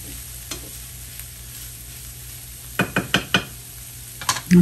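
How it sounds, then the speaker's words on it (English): Corn kernels and onions frying together in a pan, a low steady sizzle broken by a quick series of sharp utensil knocks near the end. "we're going to get the corn in the pan. Get it mixed in with the onions."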